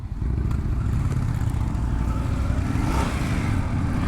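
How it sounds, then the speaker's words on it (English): A 2025 Indian 101 Scout motorcycle pulls hard under acceleration, its engine giving a loud, steady low rumble with rising rev tones, heard up close over rushing wind. "Oh yeah, she pulls nicely."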